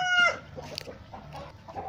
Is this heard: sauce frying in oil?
no